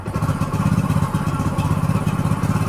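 A motorbike running on a lithium battery revs with a loud, close, rapid pulsing engine rumble that holds steady throughout.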